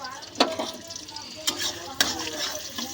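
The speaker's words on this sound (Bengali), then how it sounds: "তো পেঁয়াজটা বসিয়ে দিয়েছি।" Onion sizzles in a pot that previously held rice, with a low steady frying hiss and a few sharp stirring clatters at intervals.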